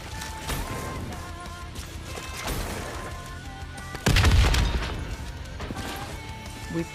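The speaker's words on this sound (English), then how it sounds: "The explosion blocked our path." An explosion in the Black Ops 3 zombie campaign video game hits suddenly partway through, a loud crashing boom with a rumbling tail, over game music and a voice speaking.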